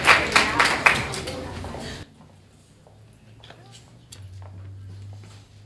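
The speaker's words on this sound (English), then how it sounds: "Everybody give them a round of applause." A middle school meeting audience applauds guests from Atlanta with a short burst of clapping that stops abruptly, leaving a quiet room with a low hum and faint shuffling.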